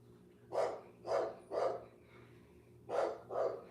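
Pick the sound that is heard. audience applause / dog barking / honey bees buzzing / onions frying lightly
dog barking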